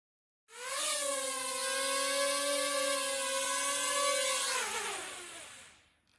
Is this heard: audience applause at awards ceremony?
no